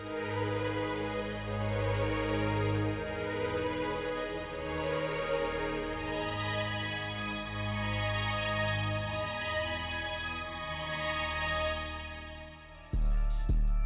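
Full, sustained orchestral string chords from the SRX Orchestra virtual instrument, a steady dense layered wash held for over ten seconds, with a brief abrupt change near the end.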